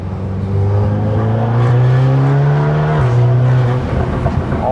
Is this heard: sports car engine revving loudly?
yes